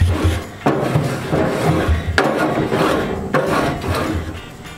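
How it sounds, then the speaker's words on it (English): Rough, continuous scraping of a metal scraper dragged across Traeger pellet grill grates to remove residue, close and loud with a few sharper strokes marking the start of new passes. "you can hear it scraping off a little bit more"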